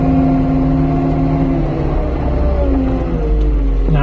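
A log truck engine drives along without the 2-speed engaged, a loud, close diesel drone whose pitch falls and wavers across a shift, with a sharp rise at the end and no talk.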